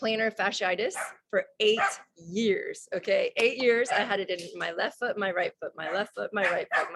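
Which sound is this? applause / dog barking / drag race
dog barking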